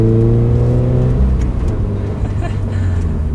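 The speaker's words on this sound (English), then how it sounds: "Downshifting a little bit here again." A 2019 Toyota 86 GT TRD Special Edition downshifts and then accelerates. The engine tone steps down and picks up again under steady cabin noise, with a voice speaking over it.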